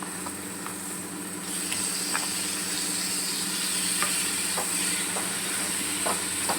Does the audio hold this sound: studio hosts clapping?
no